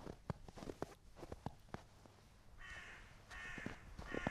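Several harsh crow caws ring out in a snowy winter countryside, spaced irregularly at first and then coming as louder, closer calls near the end, with no talk over them.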